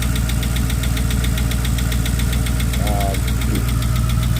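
A Dodge Charger with a swapped 392 engine idles with a rapid, steady ticking knock from a worn motor, sounding like a lifter fault, loud and close over a low rumble, with a brief voice partway through.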